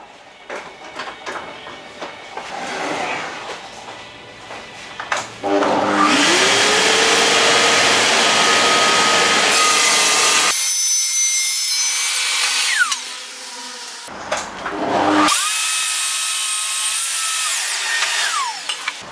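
A circular saw spins up with a rising whine, then bites into hardwood with a loud, sustained grinding buzz, stops, and cuts again.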